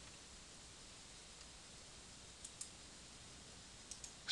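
A computer mouse gives a few quiet, crisp clicks, single then paired, over a faint steady hiss, with no one speaking.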